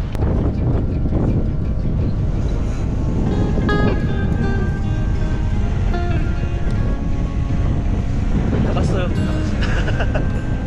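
Loud wind roars continuously against the microphone in heavy, buffeting gusts at a hilltop scenic viewpoint and view deck, with faint distant sounds beneath.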